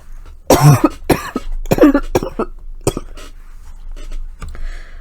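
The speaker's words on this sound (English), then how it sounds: "How long have you had that cough?" A man coughs in a few harsh, close bursts, separated by short pauses and quiet breaths.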